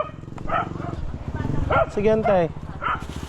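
A dog barks a few times close by, short sharp yaps mixed in with people talking over it.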